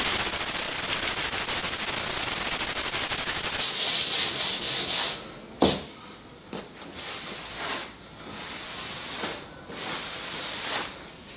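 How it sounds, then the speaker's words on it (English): A sanding block wrapped in 240 grit sandpaper is rubbed steadily and rapidly over timber, making a close, continuous rasp that gives way to slower, separate strokes with a sharp knock in between. "then I'll give it a sand, a bit of 240 grit"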